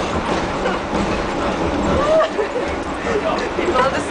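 The interior of a moving subway train gives a steady rumbling, rattling ride noise with people chatting close by over it.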